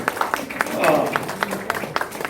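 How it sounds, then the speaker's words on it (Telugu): Scattered hand claps from a small gathering at a Telugu poetry assembly, a steady patter of separate claps at moderate distance with voices talking underneath. "ఇది మనం గట్టిగా చప్పట్లు కొట్టుకునే అంశమే"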